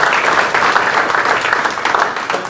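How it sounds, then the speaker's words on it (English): An audience claps after a lunch-and-learn talk on education, a steady, even round of applause that fills the whole two and a half seconds. "a round of applause"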